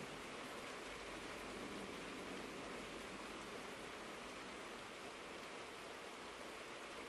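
Steady rain falling during a theatre play performance, a dense, even hiss that stays constant and fairly loud with no voices over it.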